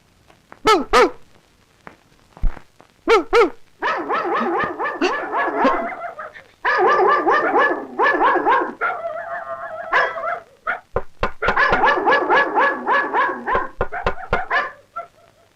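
A voice imitates a dog: loud, close runs of rapid barking, yipping and whimpering yelps that come in short bursts and longer rhythmic strings, with brief pauses between them.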